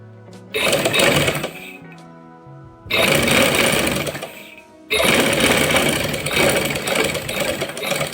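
Sewing machine stitching the neckline of a blouse: loud, steady mechanical whirring runs in three bursts separated by brief pauses, close up and alone with no talk.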